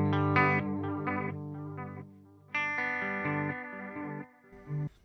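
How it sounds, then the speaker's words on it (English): Electric guitar notes ring through a Hologram Chroma Console delay, their echoes smearing, wobbling and breaking up into a warbling, degraded wash between phrases. "you can hear that delayed sound starting to degrade and break up a little bit"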